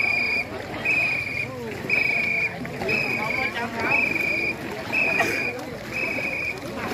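A long ghe ngo racing boat moving on a river during crew practice, with rhythmic paddle splashes and water sloshing in pulses, under loud tonal calls or chanting repeating about once a second.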